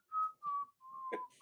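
Someone whistles a steady, sustained tune in short phrases, fairly close and clear, with soft background chatter from a casual group drinking game session.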